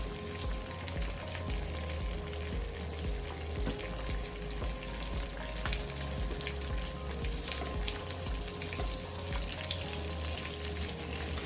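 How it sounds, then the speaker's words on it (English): Salmon fillets frying skin side down in a frying pan give a steady, close sizzle and crackle, continuous and even throughout with no talking. "while we wait on the salmon to be completed in the frying pan"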